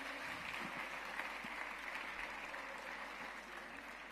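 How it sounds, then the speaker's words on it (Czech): Audience applause at the final of the Man of the Year 2022 Czech Republic contest, a steady, even wash of clapping holding for about four seconds at moderate level with faint voices underneath. "Prosíme, zatleskejte si, ano."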